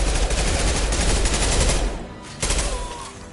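Dense, loud assault rifle fire in the Mass Effect 2 video game, rapid overlapping shots rattling continuously before dipping briefly and resuming at a slightly lower level.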